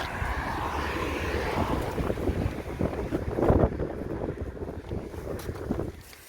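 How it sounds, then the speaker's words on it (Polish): Strong wind gusts over an outdoor camp cooking spot where a burner needs a windshield, along the Polish border near Kudowa-Zdrój and Ustroń; a steady, loud rushing roar fills the whole stretch with no talk. "Wieje niemiłosiernie."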